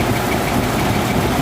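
International 540 cubic inch big-block school bus engine idling, a steady, loud, continuous rumble with even low vibration throughout and no talking.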